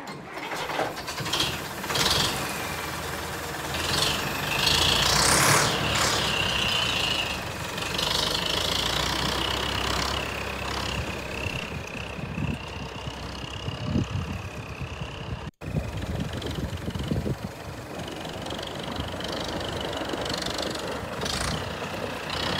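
A tractor engine runs steadily nearby, a rough mechanical drone with clattering and a whining tone that rises and falls.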